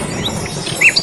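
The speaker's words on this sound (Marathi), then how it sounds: "पाखरे बोलू लागले" Birds in a children's story give a few quick, high chirps close by, clustered near the end of a very brief moment with no talking.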